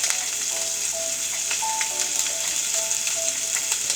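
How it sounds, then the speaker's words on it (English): Ground meat for cheesy fideo sizzling and crackling in a hot pan, a steady close frying hiss with scattered pops and the occasional scrape of stirring. "And now we're going to do the famous scramble of the ground meat"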